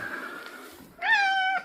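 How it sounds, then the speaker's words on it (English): A cat meows once, a clear rising-then-falling call near the end, preceded by softer cat vocal sounds at a moderate, close distance. "Here's Mummy Cat, Fifi."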